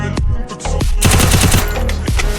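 SMG bursts in the mobile battle game Free Fire, several loud rapid volleys of gunfire close up, with brief gaps between bursts.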